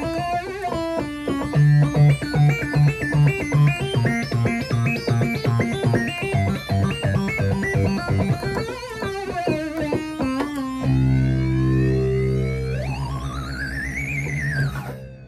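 A buzzy, gritty monophonic acid sawtooth synth, Logic's Retro Synth, plays a fast single-note sequence, then swoops into long gliding pitch bends with a deep drone underneath.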